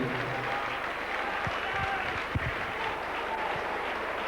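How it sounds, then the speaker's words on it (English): Sympathetic applause from a rugby league crowd at a St Helens versus Halifax match as an injured player is stretchered off, a distant, steady stadium patter beneath continuous crowd noise, with a few voices calling out. "Sympathetic round of applause."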